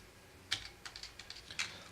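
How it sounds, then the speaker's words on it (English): Computer keyboard typing during an Arduino laser tag programming session, a quick burst of light, close key clicks in an irregular rhythm, faint and alone. "Let's type that out."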